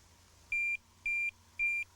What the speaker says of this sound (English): turn the buzzer on to plus or minus, it doesn't matter. Get the normal bleeps.